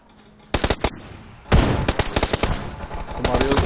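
PUBG gunfire heard as two bursts of rapid automatic shots, loud and close, separated by a short lull with fainter background noise.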